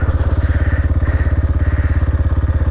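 A motorcycle engine throbs loudly and close on a downhill dirt trail, a fast, steady rhythmic putter of low pulses with rattling clatter and no voices.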